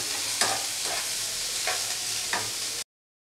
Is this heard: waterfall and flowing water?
no